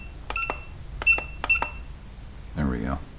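A Kingbolen battery analyzer beeping: three short, bright electronic beeps in quick succession, the second and third close together, followed by a brief spoken word.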